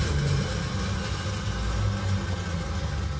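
A 1987 Dodge Ram B150 shorty van's slant-six engine with a Holley 1920 carburetor idles steadily up close, a continuous low rumbling drone with no talk over it.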